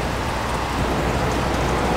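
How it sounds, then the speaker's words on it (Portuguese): Steady, even rain falls in a continuous hiss of drops at close range, with no voices and no breaks over the short stretch. "a gente não pode lá agora que tá chovendo"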